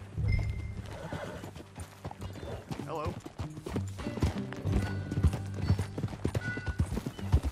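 Horse hooves clip-clop at a steady walking rhythm in the western game Red Dead Redemption 2, close and clear, with a horse neighing and characters talking over the hoofbeats.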